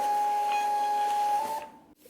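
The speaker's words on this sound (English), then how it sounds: "you want to make sure you're printing it on 4x6 if you have a label printer" A label printer feeds out 4x6 shipping labels with a steady, close mechanical whine and hum that runs unbroken for about a second and a half, then stops abruptly, leaving near silence.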